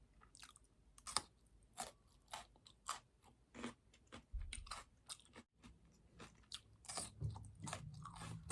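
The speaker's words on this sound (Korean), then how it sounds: "이번에는 이 빨간 파프리카 먹어보겠습니다" A raw red bell pepper bitten and chewed close to the mic, sharp wet crunches followed by a steady run of juicy mastication, loud and intimate against silence.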